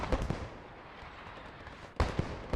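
Artillery smoke screen shells landing in a video game battle, heard as a few sharp booming impacts, two near the start and a louder cluster toward the end, with a low rumbling bed between them.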